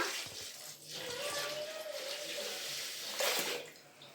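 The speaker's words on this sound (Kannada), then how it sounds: "ಈಗ ಇದಕ್ಕೆ ಪೂರ್ತಿ ಅಕ್ಕಿ ಮುಳುಗೋ ಅಷ್ಟು ನೀರು ಹಾಕ್ಬಿಡೋಣ." Water pours steadily into a bowl of rice, a continuous close splashing rush with a brief louder gush near the end.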